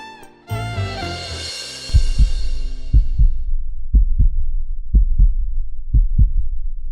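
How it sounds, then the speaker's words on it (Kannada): A loud heartbeat sound effect in a TV serial: a swelling tone gives way to deep, steady double thumps, about one pair per second, pounding over a low droning background. "ಎದೆ ಬಡಿತ ಜೋರಾಗಿದೆ"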